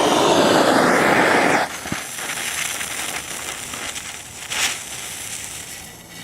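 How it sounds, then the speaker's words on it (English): A blowtorch roars loudly for under two seconds, then drops to a lower, rougher hiss and rush with a brief pop, set up during an outdoor detonation demonstration. "then we'll light the blowtorch"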